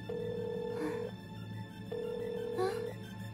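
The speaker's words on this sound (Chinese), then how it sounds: "皮皮鲁怎么不接电话呀" A cartoon telephone ringing unanswered, two sustained electronic rings separated by a short pause, with a voice speaking faintly over the second ring.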